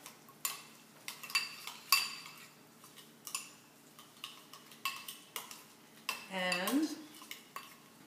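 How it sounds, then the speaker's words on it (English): A spoon clinks and scrapes against a bowl while a tuna burger mixture with paprika is stirred, sporadic quiet taps and scrapes up close, with a brief spoken word near the end. "And I'm just going to mix this up."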